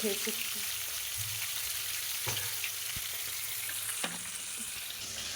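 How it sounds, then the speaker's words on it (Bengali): Chicken pieces fry for Bengali kosha chicken in a hot pan, giving a steady, loud sizzle with occasional stirring scrapes throughout, close to the microphone and without talk. "এখন তো বেশি গ্যাসটা আমি চিকেনটা বসিয়ে কষা চিকেন করবো"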